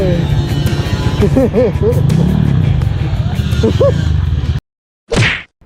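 A modified Honda Click 125i scooter fitted with a 59mm MTRT block, ATAKA head and UMA 32mm throttle body rumbles and revs close by, with voices over it. The engine cuts out abruptly near the end, followed by one short burst.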